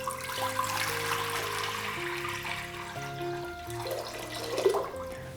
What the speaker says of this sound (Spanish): y voy a llenarla de agua.